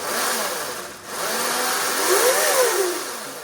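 A Ryobi cordless chainsaw whirs up to speed, dips briefly, then climbs again into a loud sustained whine with rising and falling pitch, close and unbroken by talk.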